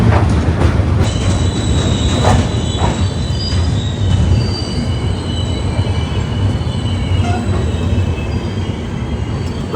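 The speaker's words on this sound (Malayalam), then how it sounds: "ഒരു ഗുഡ്സ് പോകുന്നുണ്ടോ അപ്പുറത്തെ ആ പാലത്തിൽ കൂടെ കണ്ടോ" A long goods train crosses a railway bridge near the Krishna River close to Vijayawada. Steady loud rumbling, screeching wheels and rail clatter fill the whole stretch without a break, with no one talking.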